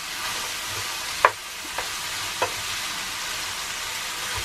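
Onions frying in a pan over a steady broadband sizzle, with a few sharp clicks of a utensil stirring or tapping against the pan. No one speaks.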